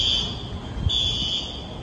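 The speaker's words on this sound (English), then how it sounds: "It seems like there's an alarm somewhere there." An alarm rings steadily on a street in Gastown, Vancouver at night, a continuous high electronic tone that breaks off briefly near the middle and resumes over a low hum of city traffic.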